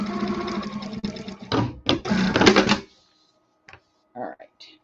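A sewing machine running a back stitch on American Girl doll clothes, a steady mechanical whirring burst for about three seconds, then a few short clicks and brief handling sounds near the end.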